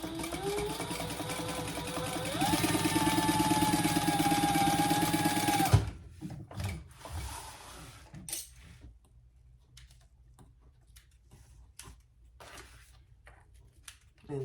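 A home sewing machine runs steadily, top stitching an eighth of an inch from the edge of a crossbody bag, its motor whirring for several seconds before stopping, followed by light handling clicks and rustles of fabric.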